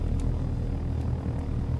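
A helicopter in the flight sim Take On Helicopters comes in to land, its engine and rotor giving a steady, loud droning whir. A few faint higher flickers sit on top, and no one speaks.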